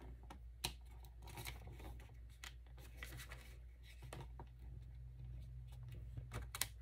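Backing is peeled off a strip of score tape during an album-making session, leaving faint, brief tearing and crinkling rustles with a few small ticks over a low steady hum, quiet and close.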